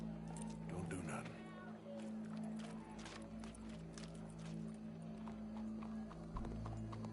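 Steady horse hooves clip-clop along in the video game Red Dead Redemption 2, under a continuous bed of music and background noise, with a voice or two speaking over it.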